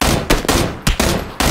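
Gunfire in the video game Battlegrounds, several loud close shots and short bursts fired in quick irregular succession, with no talking over them.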